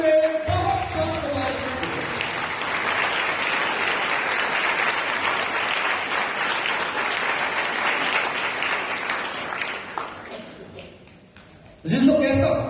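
Loud, sustained applause from a church congregation at a Fourth Sunday of Advent service, lasting around ten seconds before tapering off, with a voice rising again at the end.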